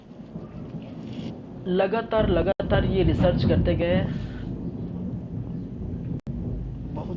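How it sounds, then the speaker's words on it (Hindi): Heavy rain with thunder, a steady broadband downpour with rumbles running beneath a man's lecture speech throughout. "बहुत ज़्यादा बारिश हो रहा है यार,"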